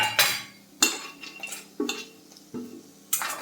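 Fried cashews being stirred in a pan for cashew curry: about five distinct spoon scrapes and clinks against metal, each a brief loud stroke followed by a quiet gap, with no sizzle.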